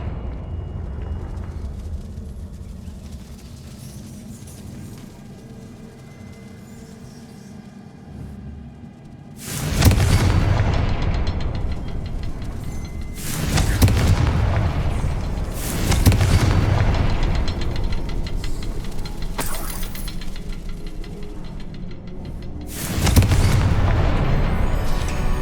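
Confringo blasting spell explosions in Hogwarts Legacy go off as a series of loud booming blasts, about five separate hits spaced a few seconds apart, each with a sharp attack and rumbling tail over quiet game ambience, with no talking.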